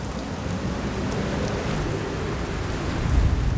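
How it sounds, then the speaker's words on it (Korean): Unforecast rain falls steadily on the deck of a sandlance fishing boat at sea, making a dense, loud hiss that swells slightly toward the end. "이제 기다려서 까나리를 잡아 올리면 되는데 예보에도 없던 비가 내리기 시작하고"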